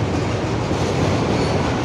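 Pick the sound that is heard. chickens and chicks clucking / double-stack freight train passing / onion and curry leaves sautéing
double-stack freight train passing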